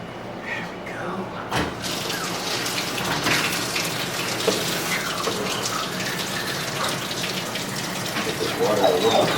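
A tap gushes water into a bath being filled for Prissy the pet, a continuous, fairly loud rush with a brief knock early on.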